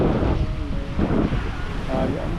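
Strong wind buffets the microphone near the sea by a boat, a steady low roaring rush with gusting surges, loud and close, while people talk underneath.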